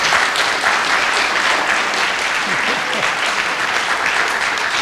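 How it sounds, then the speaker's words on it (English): Audience at a candidates' forum applauds the candidates, with loud, sustained, even clapping that holds steady from start to finish and has no talk over it. "I ask for a round of applause for these three candidates."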